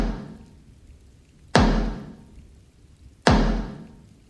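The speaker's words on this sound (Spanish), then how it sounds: "Un golpe seco interrumpió la conversación." Two sharp, heavy knocks on a door, spaced well apart, each with a short booming decay in a quiet room.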